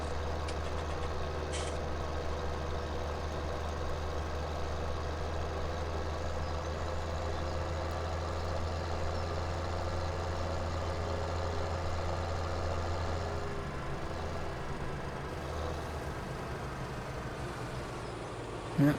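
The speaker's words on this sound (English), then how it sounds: "Let me bring the tractor over." A farm tractor idles steadily in the video game Farming Simulator 17, a low continuous engine rumble holding alone at moderate level with no talk over it.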